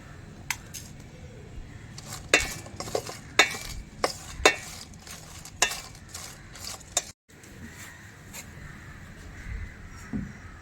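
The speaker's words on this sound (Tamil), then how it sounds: "உளுந்து கொஞ்சம் நல்ல வாசனை வர வரைக்கும் வறுக்க வறுக்கணும் வரமிளகா வறுத்துக்கலாம்" Urad dal and dried red chillies roasting in a dry pan for a drumstick-leaf spice powder, with irregular scraping and clinking of a metal spoon over a faint crackle.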